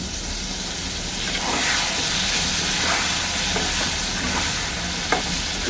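Chopped tomato hits a hot pan of oil and potatoes, giving a loud, steady, broadband sizzle with a few stirring clicks, and no talking.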